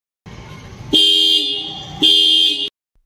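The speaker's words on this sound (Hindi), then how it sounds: "इसके हॉर्न को चेक कर लेते हैं पहले इसका हॉर्न किस तरीके का साउंड करता है" Two loud, sharp horn honks from a 2024 TVS Apache RTR 160 4V motorcycle, each held about a second, with a faint engine hum running underneath.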